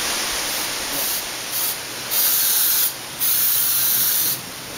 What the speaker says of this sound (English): Just spraying the patches that we made up for the underneath of the doors.